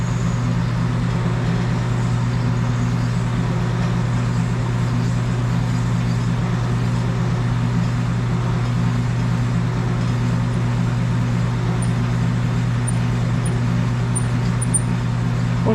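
A Sunnen hone machine lapping bearing steel runs with a loud, steady motor hum and continuous grinding drone, unchanging throughout with no talking.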